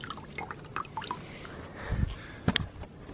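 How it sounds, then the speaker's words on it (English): Water dripping and trickling off a waterproof sock just pulled from a container, soft close splashes and drips with a brief louder splash near the end, no voices. "all the water kind of wipes off and goes down"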